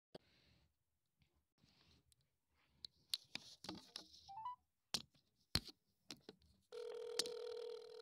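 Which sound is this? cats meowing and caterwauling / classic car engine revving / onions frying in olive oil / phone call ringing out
phone call ringing out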